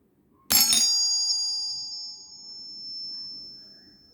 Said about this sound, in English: now we will check if the bell works